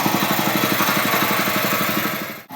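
A power weeder engine running with the clutch engaged, a loud steady chugging rhythm close by that dips briefly near the end.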